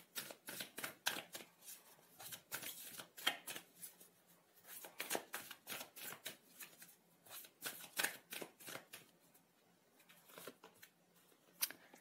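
Tarot cards being shuffled and drawn in a rapid, continuous riffling flutter of soft papery slaps, fairly quiet and close, with no talking.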